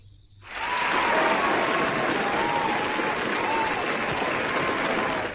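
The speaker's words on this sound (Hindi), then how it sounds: "तो आप लोगों के लिए पहले तो ताली." After a brief quiet moment, a loud, sustained burst of crowd applause swells in and holds evenly, with a faint melodic tone weaving through it, on a radio film show.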